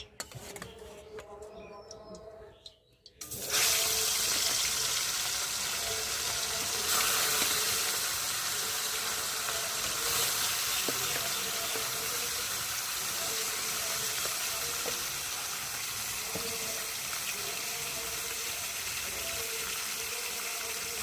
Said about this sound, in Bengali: এখন এই যে নুন হলুদ মেখে রাখা মাছগুলো দিয়ে ভালো করে ভেজে নেব